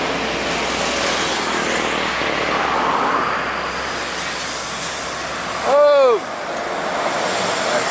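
An Indonesian intercity Raja bus on the Pekanbaru–Medan route passes on a road amid steady traffic rumble, with a brief loud horn blast near the end.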